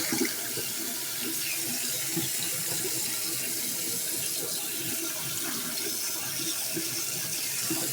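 Tap water runs steadily into a sink while bottles are rinsed out, a continuous close splashing rush with small gurgles and shifts as the containers fill and empty, and no one speaking.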